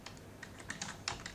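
A computer keyboard clatters with quick, irregular keystrokes as a command is typed in Minecraft's World Edit, the clicks close and soft with no voices over them.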